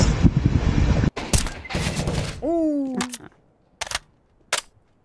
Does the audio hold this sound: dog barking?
no